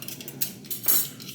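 Metal cutlery clinks and rattles as silverware is taken out for a tinned luncheon loaf meal review, several close, bright clatters in a quiet room with no talking.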